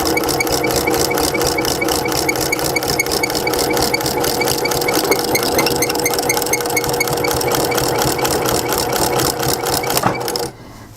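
Sewing machine back stitching fabric for a coupon wallet, a loud fast rhythmic mechanical chatter running steadily for about ten seconds before stopping abruptly.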